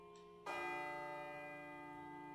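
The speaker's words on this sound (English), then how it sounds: "It sounds like a bell, but where's it coming from?" A single bell in the video game Persona 3 FES is struck once after a brief quiet moment, then rings out with a long, resonant, slowly fading tone.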